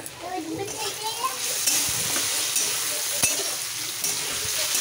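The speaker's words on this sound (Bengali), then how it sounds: "একটু ভাজা ভাজা হোক" Curry cooking in a pan on a home stove, sizzling steadily while being stirred, with occasional scrapes and clinks of the utensil against the pan; a voice talks faintly in the background.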